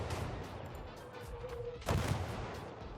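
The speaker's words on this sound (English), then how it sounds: "My artillery cannot hit him" Artillery fire in the World War II game Gates of Hell, a booming blast landing after a stretch of low battlefield rumble, with a whistling tone just before the impact.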